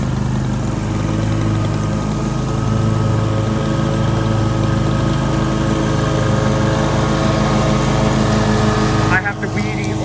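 Riding lawn mower cutting grass on hilly mountain ground, its engine droning loud and steady throughout at close range, with a brief dip near the end.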